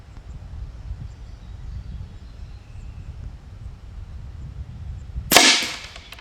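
A single shot from an AEA Terminator Gen2 .30 caliber air rifle firing 54.5 grain slugs at 50 yards, a sharp crack near the end after a quiet, murmuring outdoor background.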